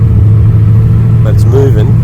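A Holden HZ with an LS engine swap, on its first drive, drones with a loud, steady low engine note that strains under load, while a voice briefly cuts in over the noise.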